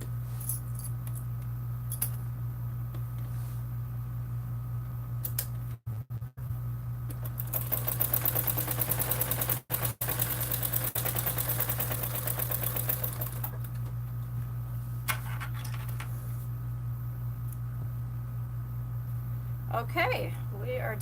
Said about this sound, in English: Alright, and then we're doing that top stitching again.